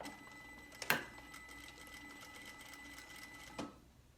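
A sewing machine stitches bias binding at a quarter-inch seam, a faint, steady mechanical whir punctuated by two sharper clicks near the start and end before it stops.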